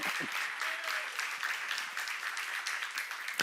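Church congregation applauding during a worship teaching, a steady wash of many hands clapping at moderate distance, continuous and even, with a faint voice briefly audible at the start.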